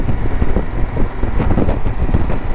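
A Honda XL1000V Varadero motorcycle engine runs steadily and loud throughout, with a rough, rattling, clicking texture under the low drone and no voices.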